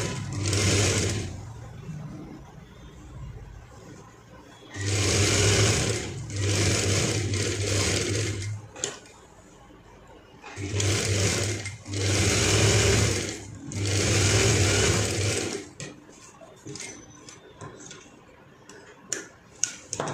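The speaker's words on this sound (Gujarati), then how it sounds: "અહીંથી આપણે સિલાઈ કરવાની છે।" An electric sewing machine stitches a small cotton dhoti for a young child, running in several loud, steady whirring bursts of a few seconds each, with quiet pauses and faint handling clicks between runs.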